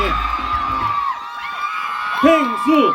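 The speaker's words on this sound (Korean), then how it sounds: "큰 박수 부탁드립니다." Outdoors at a community walking event in a riverside park, a crowd greets a mascot guest with shouts and rising whoops over a steady background of crowd noise and voices.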